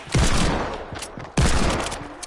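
Two loud, sharp bursts of video game gunfire crack close up, each decaying in a rattling echo, the second coming a little over a second after the first.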